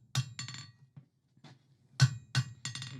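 A light hammer strikes hot metal on an anvil while tongs are forged, six ringing blows in uneven pairs with short pauses and faint taps between them.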